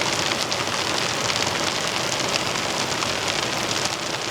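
Heavy rain from a storm pounding a tent at a camp in Chippewa National Forest, a dense steady hiss of drops with no letup, loud and close, with no voices.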